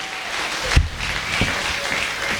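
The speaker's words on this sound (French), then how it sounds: "Acclame Jésus pendant que tu t'assois." Church congregation in Ebogo, Yaoundé applauding Jesus, a dense wash of clapping hands with a sharper burst near the start, lively and sustained throughout.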